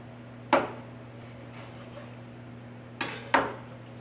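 Kitchen knife cutting through the center of a whole raw chicken, heard as two or three sharp clacks as the blade hits the board, with a steady background hum.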